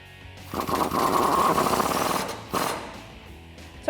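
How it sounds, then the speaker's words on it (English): An impact tool tightens a flag nut with a 21mm socket on a Jeep Wrangler JK suspension during a lift kit install, a loud continuous buzzing rattle lasting about two seconds followed by a brief second burst. "tighten that up with the 21mm socket."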